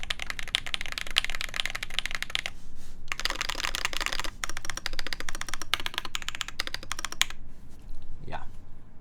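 Rapid clacking of a Matrix 8XV2.0 mechanical keyboard with artisan keycaps, typed in close, steady bursts broken by brief pauses, with a faint voice briefly audible near the end.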